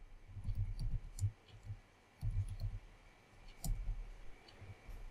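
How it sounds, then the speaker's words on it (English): Typing on a computer keyboard while writing code, bursts of quick soft key clicks in irregular clusters with short pauses, close and fairly quiet, no voices. "I always have difficulty spelling answers with the keyboard."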